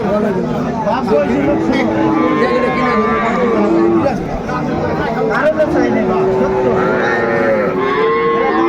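Sahiwal cows mooing at a busy cattle market, with several long, loud lowing calls repeating close by over a background of crowd chatter and voices.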